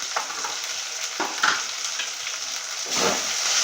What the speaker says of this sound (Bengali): আমি সমস্ত মশলাকে এইভাবে আমি ভেজে নেব